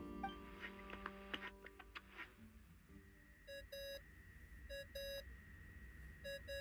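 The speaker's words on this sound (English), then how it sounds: "I really hate that ringing tone." A ringing tone in the video game Genshin Impact sounds as a repeating pattern of short electronic beeps, pulsing in bursts at a moderate level over a quiet background.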